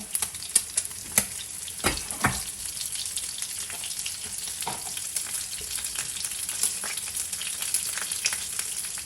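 Noodles sizzle and fry in a hot pan in a home kitchen, a steady crackling hiss with occasional sharper pops and stirring clatters, close and continuous with no talking.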